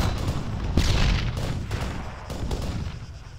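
Gunfire in the video game Arma 3: a few heavy, booming shots and impacts ring out in quick succession, loud and close, with a rumbling low-end tail between bursts.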